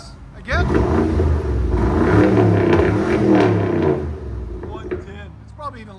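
A 2015 BMW X6 M's twin-turbo 4.4L V8 with the muffler deleted, set to Sport Plus, gives one sustained loud rev lasting several seconds, then settles back down to a quieter rumble.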